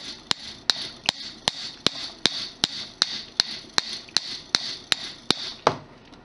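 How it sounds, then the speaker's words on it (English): A hammer flattens copper wire for a handmade wire pendant charm, striking about fifteen sharp, evenly spaced blows at a steady rhythm. The close, ringing metallic hits stand alone with no talk. "And then you just hammer the copper, which will flatten it."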